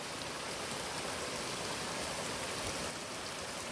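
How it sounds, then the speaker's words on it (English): Running water flowing after a rain event, a steady broadband rushing like a small stream or runoff channel, continuous and fairly close throughout with no talking. "That sound of running water is lovely to hear."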